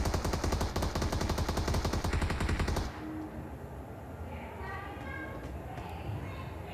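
Gunfire from a fight in the BGMI video game comes as a loud rapid automatic burst for nearly three seconds and then stops abruptly, leaving quieter background sounds.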